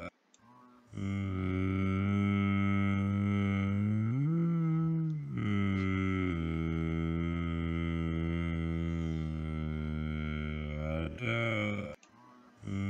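Royal Navy sonar recording of a whale: a loud, sustained tonal call rich in stacked harmonics, holding steady pitch with a dip and brief break near the middle, then resuming until it cuts off abruptly.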